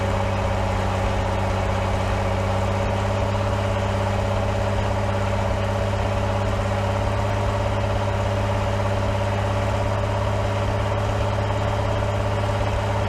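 A World War II radial aircraft engine, restored after nearly 50 years sealed away, runs with a steady, loud, continuous drone and strong low harmonic hum throughout, unbroken and without any voices.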